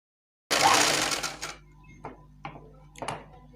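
A sewing machine runs a burst of stitching along a puff sleeve seam, loud and close for about a second, then stops with a few short mechanical clunks and taps.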